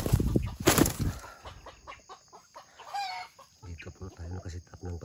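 Wild junglefowl clucking in short bursts, with a rustle of flapping wings at the start and scattered calls against quiet outdoor background.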